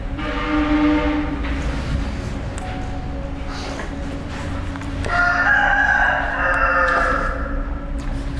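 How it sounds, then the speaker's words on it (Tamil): A rooster crows loudly and close by, a long drawn-out call over a steady background drone, with no talking. "இந்த கோழி தான் கத்திருக்கு."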